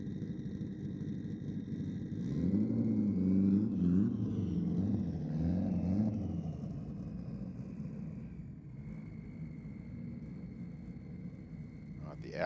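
An Audi and a Ford Falcon roar down the strip at Sydney Dragway, a distant engine wail rising and falling through gear changes before fading, with a commentator talking over it.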